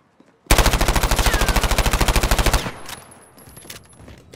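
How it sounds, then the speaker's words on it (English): Rapid automatic gunfire in a Search and Destroy match of a shooter video game, about two seconds of loud, evenly spaced shots in one continuous burst, then fading echoes and quieter game noise. "I'm shooting in the air."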